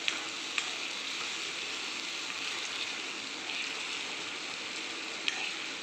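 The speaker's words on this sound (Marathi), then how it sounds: "दूध ॲड करून घेतो थोडंसं, जास्त नाही." Milk poured into a hot pan of jaggery and coconut mixture for gul khobra vadi gives a steady, moderately quiet sizzle with a few brief crackling pops, and no voices.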